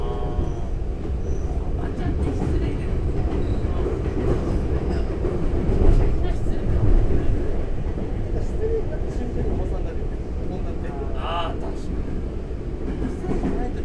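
Steady rumbling interior noise of a moving train, with a constant low roar and occasional rattles and a brief squeal; faint voices murmur underneath.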